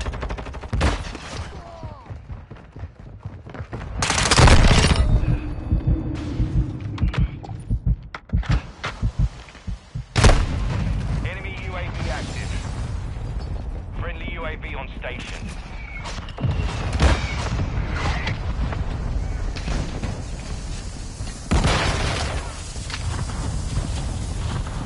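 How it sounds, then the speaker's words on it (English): Mortar strike explosions from a video game, arriving as scattered heavy booms and thuds through roughly twenty-five seconds of dense battle noise, with voices talking over parts of it. "Hostile mortar strike incoming."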